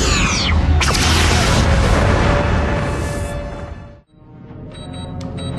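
A starship torpedo fires from a port tube during a Star Trek Enterprise space battle, heard as a loud booming rush and whoosh that fades into a brief drop near silence, followed by quieter electronic bridge tones.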